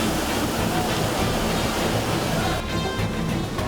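Artificial waves and strong wind churned up in a naval simulation training tank, a dense, continuous rushing roar of water and gusting air that stays loud throughout, easing slightly near the end.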